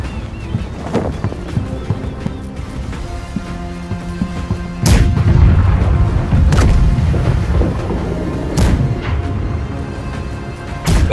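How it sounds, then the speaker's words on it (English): Ship cannons fire at an enemy tower during a naval battle in Blackwake: a heavy boom lands mid-clip, followed by several sharp, loud reports spaced a second or two apart over rumbling battle noise. "Left side cannon for the enemy tower again."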